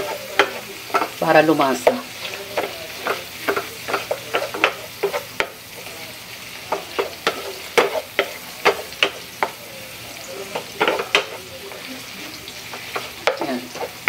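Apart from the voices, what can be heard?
sautéing pressed tomatoes in a pan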